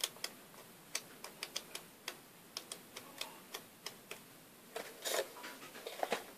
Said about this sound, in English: Try to get you a little flip through.